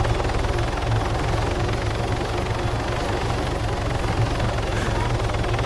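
Video game helicopter flying nearby, a loud steady rotor thrum that holds for the whole stretch, with low pulsing chop and broadband wash and no break or fade.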